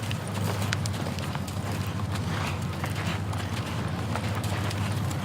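Hoofbeats of a horse loping in a steady, continuous rhythm, moderately close, with a low rumbling hum underneath and no talking.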